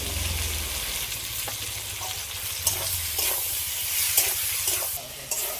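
Ginger-garlic paste frying in oil in a pan, a steady hissing sizzle with frequent stirring scrapes and occasional light knocks of a spoon against metal, no voices.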